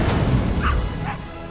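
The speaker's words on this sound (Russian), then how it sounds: "Собака?" A dog in the Lego Harry Potter video game gives two short barks or yips over a loud, dense game soundtrack and ambience.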